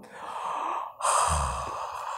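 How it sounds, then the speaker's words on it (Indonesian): A person yawning during prayer, a drawn-out breathy inhale that breaks off and opens into a louder, voiced exhale, heard up close and alone. "Lagi sholat, nguap."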